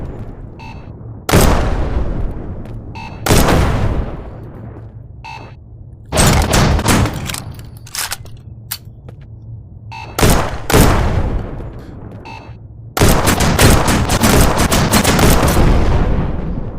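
Gunfire at targets in the VR shooter Shotwood comes in loud, sharp bursts of several rapid shots with echoing tails, separated by quieter gaps, ending in a longer sustained volley.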